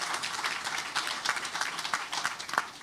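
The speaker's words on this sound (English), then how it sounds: "We want to applaud them for that" Moderate, scattered clapping from an audience at a talk on St. Lucia Carnival history, with some individual claps standing out sharply within a softer wash of applause.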